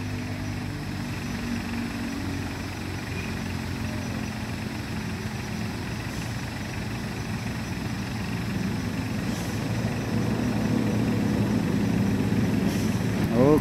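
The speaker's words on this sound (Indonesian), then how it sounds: "di sini ada truk Isuzu Elf" An Isuzu Elf truck labours up a steep hill, its engine a low, steady drone that swells and grows louder toward the end, with faint voices in the background.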